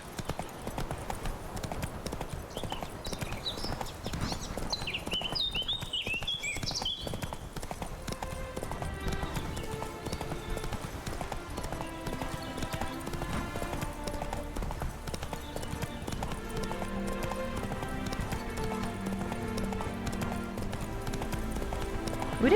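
A horse galloping in The Witcher 3: Hearts of Stone, with steady rhythmic hoofbeats running throughout, and a musical score rising beneath them partway through.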